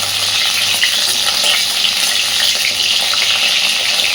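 Pointed gourd (potol) fries in hot oil with a loud, dense, continuous sizzle, close up and steady throughout, with no voices.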